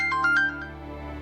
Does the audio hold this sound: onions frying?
no